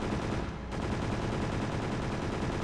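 Continuous automatic gunfire in a shooter video game, a dense, loud, unbroken stream of rapid shots with a brief dip near the start.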